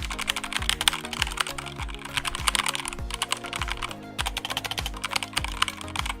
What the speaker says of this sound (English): Here's the sound quality.